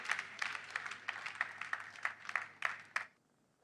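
A church congregation at SCOAN claps together in a steady, fast rhythm, the group applause held at moderate distance for about three seconds before stopping abruptly.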